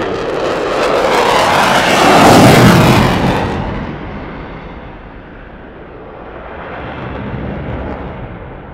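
A Tiger Demo Team F-16 fighter jet at the Antidotum Airshow 2024 roars past loudly, its broad jet thunder swelling, easing, then building again over several seconds, with no voices.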